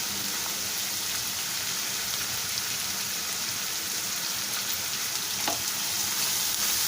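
Curry leaves sizzle and crackle steadily in hot oil in a pan of tomato methi curry, a dense, even frying hiss with occasional louder pops, close and continuous.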